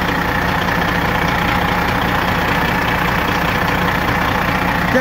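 A heavy truck's Detroit 12 engine idles steadily, a continuous deep rumble with a mechanical hum that stays even throughout, with no talking.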